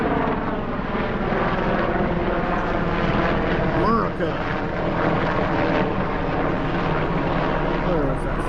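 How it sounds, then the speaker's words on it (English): A helicopter passes overhead, a loud continuous rotor and engine roar that fills the clip, while someone speaks over it briefly. "we got a helicopter coming over, so it's going to get a little bit noisy"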